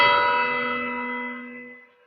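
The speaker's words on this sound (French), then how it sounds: "Ça y est, la cloche vient de sonner." A single church bell strikes once before Sunday Mass in the second week of Easter, its clear metallic tone ringing out loud and close, then fading slowly over about two seconds with no voices.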